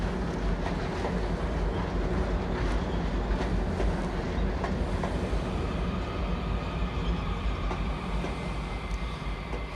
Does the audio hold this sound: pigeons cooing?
no